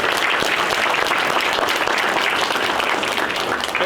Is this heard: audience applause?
yes